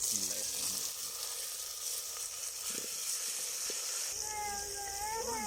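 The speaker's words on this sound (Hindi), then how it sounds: "तो इसमें अब हम डालेंगे टमाटर और हरी मिर्चें।" Tomatoes and green chillies hit lightly browned onions and garlic frying in a pan, giving a steady close hiss and sizzle with a few stirring knocks; a voice speaks briefly toward the end.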